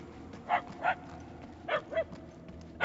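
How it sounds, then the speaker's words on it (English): Dogs bark in the video game Guardians of the Galaxy, five separate mid-distance barks spaced unevenly over a low ambient drone. "The barks are getting louder"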